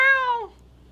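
A domestic cat gives a single clear meow, a falling tone that lasts about half a second and then gives way to quiet.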